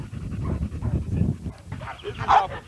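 A dog pants rapidly and audibly close by in a kennel yard, with short breathy bursts and a brief whine-like yelp near the end.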